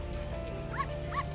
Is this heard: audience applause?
no